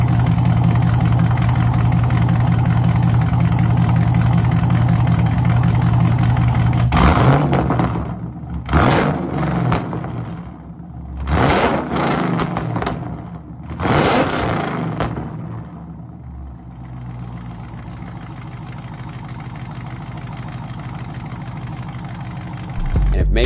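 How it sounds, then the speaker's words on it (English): A car engine idles steadily with a low rumble, then gets several sharp revs that surge and drop back in a series of bursts before settling into idle again. A voice talks over parts of it. "when he warms up a little bit, I'll give you a couple revs"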